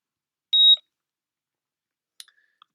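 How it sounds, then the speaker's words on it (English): One short, high electronic heart monitor beep sounds, followed by a couple of faint clicks and blips, then quiet. "So now we're getting quite a nice heart monitor display with authentic sound effects."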